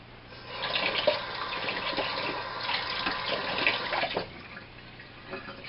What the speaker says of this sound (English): now we're going to rinse off our knife again